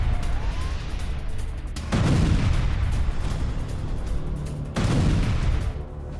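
Explosions from an Israeli military strike on a Hamas convoy: two sudden loud broadband booms, the first at about two seconds and the second near five seconds, each followed by a sustained roaring rumble, with no voices.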